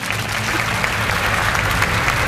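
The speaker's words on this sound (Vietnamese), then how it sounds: "hãy cho một tràng pháo tay dành cho bài thi của bé Khánh My." Steady, dense applause from a studio audience at a Vietnamese comedy and talent show, loud and continuous throughout, with no voices over it.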